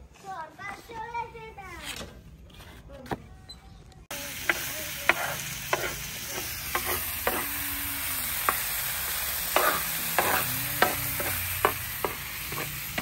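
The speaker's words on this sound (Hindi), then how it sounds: "थोड़े से आलू और अंडे का ऑमलेट बना लेते हैं" A voice speaks briefly, then a potato and egg omelette starts frying in a pan with a continuous soft sizzle and scattered light taps and scrapes of a utensil.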